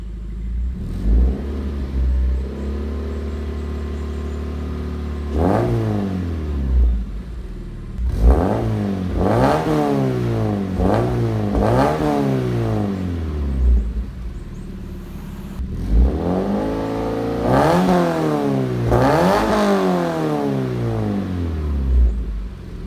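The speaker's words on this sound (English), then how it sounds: "All right, 2000 rev." Toyota 86 with a Tsudo aftermarket exhaust revved repeatedly from idle, several rising-and-falling blips in clusters with a steady idle rumble between them, close and loud.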